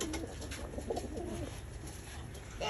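Several pigeons cooing in soft, repeated low warbling phrases, fairly close, over a steady noisy background with no talk.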